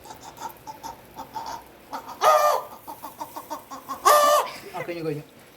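A voice imitates a chicken with two loud, squawking bursts amid chatter, followed by rapid clucking sounds; people talk around it.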